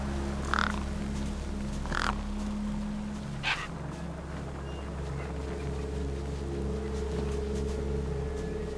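A few short bird calls, harsh like crows cawing, ring out at intervals over a steady low engine drone and ambient hum in the game Beneath a Steel Sky.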